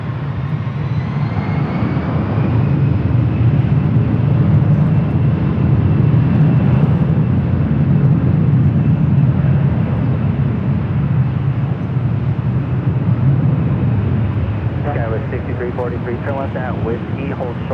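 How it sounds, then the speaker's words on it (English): A Delta Airbus A320 jet takes off from LAX, its engines giving a sustained low roar that stays fairly loud throughout, with a voice talking over the noise near the end. "This Delta A320 taking off to Dallas Fort Worth, flight 420."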